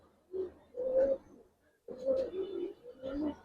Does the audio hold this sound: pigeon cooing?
yes